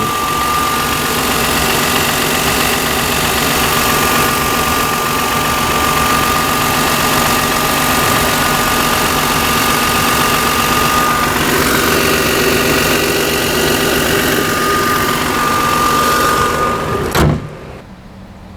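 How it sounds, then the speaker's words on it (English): Steady, close idle of a 2000 Toyota Avalon XLS V6 engine with the hood open, a continuous even hum running for most of the stretch before a sudden thump and drop in level near the end. "And there's a V6 engine."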